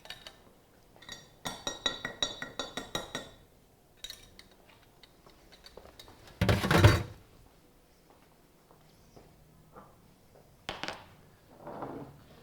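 A latte glass clinks and taps on a kitchen counter while panna cotta is being set, with quick bursts of glassy clinks, a louder knock and a few scattered taps, close and otherwise quiet.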